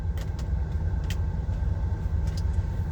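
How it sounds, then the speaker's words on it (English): Steady low rumble of heavy road traffic from inside an LGV/HGV cab near Dundee, Scotland, with engine drone filling the clip and a few faint clicks and taps above it, no talking. "The traffic's quite heavy."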